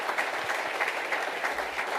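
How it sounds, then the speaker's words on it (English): Audience at the Retina UK annual conference 2025 applauds a long-serving staff member: sustained, evenly textured clapping from a crowd, moderately quiet and slightly distant, with no speech over it. "So I think another round of applause for Vanessa."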